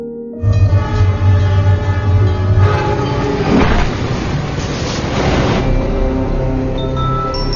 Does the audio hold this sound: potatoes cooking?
no